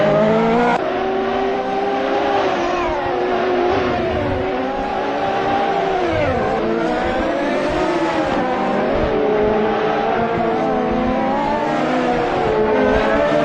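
Race car engines roar continuously at Dover Raceway in a racing video game, a loud steady multi-car drone with shifting pitch as the pack runs close together, no pauses throughout.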